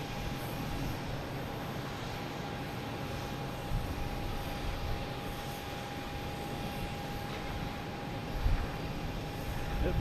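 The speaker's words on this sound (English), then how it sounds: "We do have a JetBlue coming in, an A320," Steady broad roar of a JetBlue Airbus A320 landing at Boston Logan after arriving from Fort Lauderdale, heard from a distance as a continuous even drone with a slight swell near the end.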